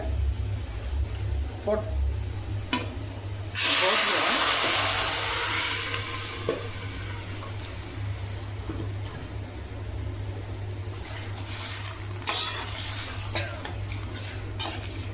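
Cooked mutton tipped into well-fried onions in a pan for mutton kulambu and stirred with a spoon, a loud burst of sizzling from about 4 s that fades into steady scraping and clinks over a constant low hum.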